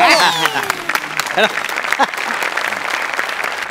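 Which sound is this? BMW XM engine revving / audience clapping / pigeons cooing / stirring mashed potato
audience clapping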